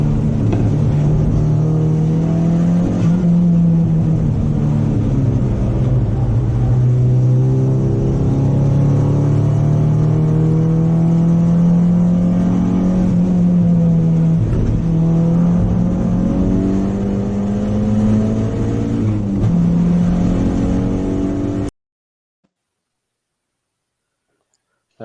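Onboard a race car at a very wet Croft circuit, the engine drones loudly and continuously, pitch rising and falling through gear changes and corners for about twenty seconds before cutting off.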